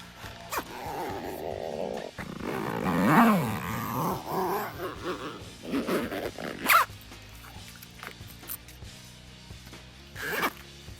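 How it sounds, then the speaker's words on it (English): A zipper runs along a Jeep soft top rear window, giving a few rasping pulls of different lengths close to the microphone, with quiet rustling of the fabric top between them. "So then I just line the zippers up and zip up the rear window."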